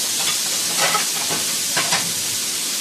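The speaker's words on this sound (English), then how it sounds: "do a quick stir fry for about 30 to 45 seconds." Prawns are stir-fried in a wok in a Chinese restaurant kitchen in Calgary, with close scraping and tossing over a constant loud sizzle and hiss of hot oil.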